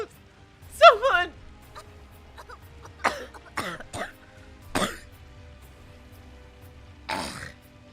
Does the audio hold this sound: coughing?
yes